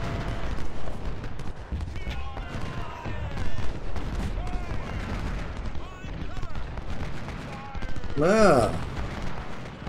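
Musket volleys and artillery fire in the American Civil War game Ultimate General: Civil War, Shiloh battle, crackling and booming in dense irregular bursts throughout, with a brief voice and a sharp bugle-like call near the end.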